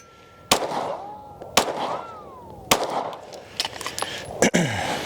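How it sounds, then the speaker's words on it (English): Several sharp gunshots from a Springfield Armory Echelon Comp pistol at a shooting range, fired at uneven intervals, loud and close, each crack trailing a brief echo and followed by faint metallic rattles. "I'm shooting to the right, that's why I'm not hitting it."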